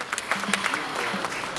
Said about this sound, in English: You must also clap for Lillian.